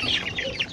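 Month-old chicks, including black Marans and other breeds, cluck and cheep continuously in a close, busy flurry of overlapping rising calls with no talking.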